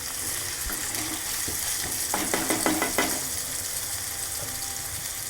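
Chopped tomato sautéing in a pan for a potato and spinach dish, a steady close sizzle throughout with a short run of quick stirring scrapes near the middle.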